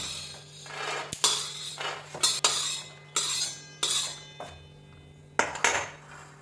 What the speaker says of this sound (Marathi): आता काढून घेणार व्यवस्थित असं एका ताटात काढून घ्यायचं